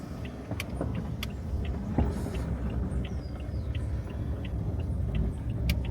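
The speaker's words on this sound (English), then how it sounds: "we're just gonna do a little bit of a drive around." Rented car driving around roads in Antigua, a steady low engine and road rumble heard from inside the cabin, with small clicks and rattles now and then and no speech.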